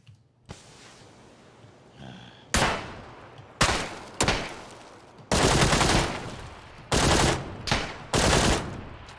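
Gunfire in PLAYERUNKNOWN'S BATTLEGROUNDS: several loud, close bursts of automatic shots, some short and some sustained, separated by brief quiet gaps.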